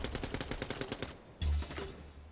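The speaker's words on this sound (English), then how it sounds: "Dart is pushing left with an SMG." Rapid SMG bursts in a 2v2 video game match, a fast rhythmic rattle of shots for about a second, then a single louder blast followed by a fading tail, with no talking.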